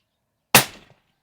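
One sharp precision-rifle shot fired at a coyote cracks out of silence, loud and close, with a short decaying tail and nothing else around it.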